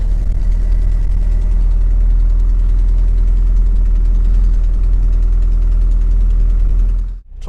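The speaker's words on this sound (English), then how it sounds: "I'm just letting the engine run for a bit to allow the battery to have a little bit of a charge." A Vauxhall Cavalier MK3 with an electrical fault that blows fuses idles loudly and steadily at close range, a constant low engine drone that dips abruptly near the end.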